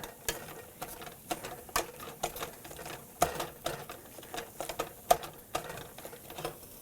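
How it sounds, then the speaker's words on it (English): A standard potato masher presses cooked black beans in a pan, making soft repeated squishing and tapping strikes in an uneven rhythm, quiet and close with no voices. "And now I'm just going to mash them. This is just a standard potato masher"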